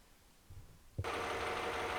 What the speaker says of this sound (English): we'll test start the engine and make sure that everything runs fine